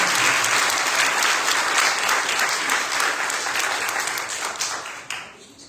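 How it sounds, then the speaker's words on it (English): Loud, dense applause from a church congregation during a Sunday worship service, sustained for several seconds before thinning and tapering off quickly at the end. "a big round of applause for Ron for offering to do all these photos"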